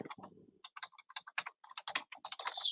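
Rapid, crisp keystrokes on a computer keyboard as text is typed into a document in a photo editor, in irregular bursts, close and clear with no talking.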